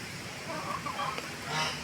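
Chickens and a rooster on a farm give faint clucks and squawks under a steady background hiss, with no clear voices.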